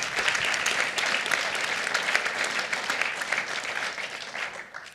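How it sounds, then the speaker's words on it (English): An audience at a talk event on the right to die applauds, a steady close wash of many hands clapping at even, moderate loudness that thins slightly at the end, with no talking. "I think she needs a clap, guys."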